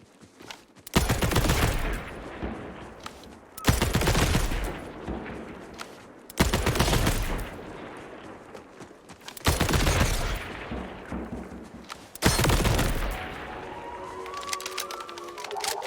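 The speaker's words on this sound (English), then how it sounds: "If you go to this location on the map and shoot the barrels in the order that I do" Bursts of gunfire in Borderlands 4 strike a series of barrels, five loud separate volleys spaced a few seconds apart, each sharp onset tailing off into ringing and clatter.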